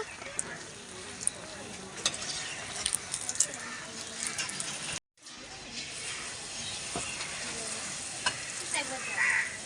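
Poa pitha, sweet fried cakes made with date palm jaggery, bubble and crackle in hot oil, a continuous close sizzle with scattered pops and stirring clicks, briefly cut to silence midway.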